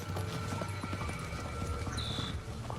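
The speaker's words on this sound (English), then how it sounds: "They're all over the place, just being horses." Hooves clopping on a hard surface in an irregular walking rhythm, close by, with a brief high whine midway.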